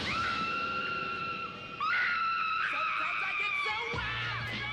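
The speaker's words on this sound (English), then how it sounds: "She still does a great scream." A woman screams in the unaired pilot of Buffy the Vampire Slayer: a loud, sustained high-pitched shriek that breaks off and rises again, with shifting tone over a noisy background.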